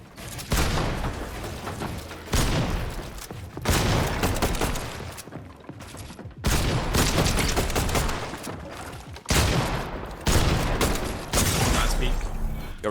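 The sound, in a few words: assault rifle gunfire in the video game Fortnite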